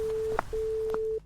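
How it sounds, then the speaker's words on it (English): A phone line sounds long, steady electronic tones, one ending early and a longer one following, with faint clicks between, clear and close. "3 slow tones she hadn't heard in years."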